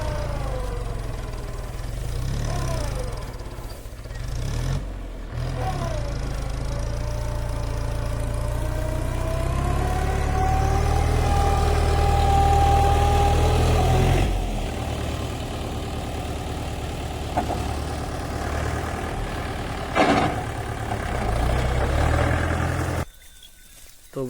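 A tractor engine revs hard at full throttle in a field of fodder, a loud deep rumbling drone that rises and falls in pitch, with brief dips and surges, running close for most of the stretch before cutting off near the end.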